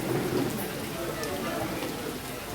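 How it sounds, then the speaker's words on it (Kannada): Heavy rain pours down at a temple, a dense, steady hiss of falling water and splashing on surfaces, close and constant, with a voice speaking over it. "ಮಳೆ ಅಲ್ವಾ, ತುಂಬ ಮಳೆ."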